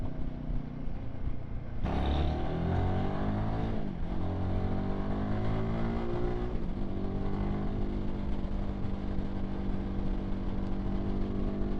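Himalayan 450 motorcycle engine while riding, a steady, loud drone whose harmonics climb and shift as the revs rise through the gears, with wind rush underneath and no talking.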